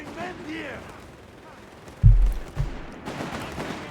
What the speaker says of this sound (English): 221 pushing in here with this machine gun, ripping into those GIs as they desperately try to get out of there